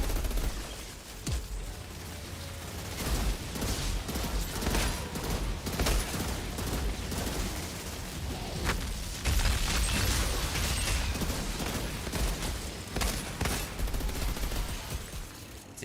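Gunfire in the shooter video game Outriders, dense rapid bursts of shots and booming blasts that keep coming loud and continuous with no talking.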